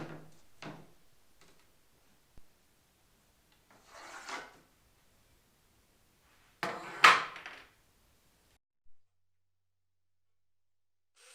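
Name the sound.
sanding wood glue off wooden table legs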